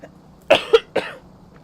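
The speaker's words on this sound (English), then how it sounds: "I've suddenly been coughing a bit, which I'm not happy about." A person coughs three times in quick succession, close and loud, the first two bursts tight together and the third a little after, then quiet.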